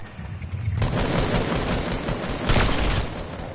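Rapid automatic gunfire from a PS4 shooter video game, dense bursts of shots rattling continuously and loudly in the foreground, with a heavier burst near the end.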